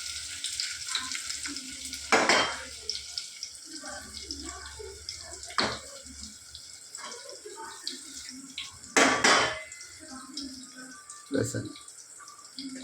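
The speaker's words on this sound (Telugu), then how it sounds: "ఏమేమో జీలకర్ర, ఆవాలు, కరివేపాకు, పచ్చిమిరపకాయ, ఎర్రగడ్డ అన్నీ వేసేస్తున్నా ఫ్రెండ్స్." Cumin, mustard seeds, curry leaves, green chilli and onion sizzle in hot oil in a pan, a steady close frying hiss with louder bursts and stirring scrapes, while someone talks over it.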